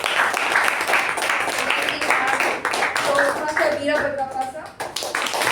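Applause at a Toastmasters club meeting, brisk clapping from a small group of people that continues steadily while someone speaks over it to introduce the next member.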